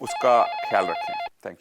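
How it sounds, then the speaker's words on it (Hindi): A telephone rings with a steady electronic tone on a call-in health show about arthritis, sounding under a person talking and cutting off shortly before the end. "फोन की घंटी बजना शुरू हो चुकी है"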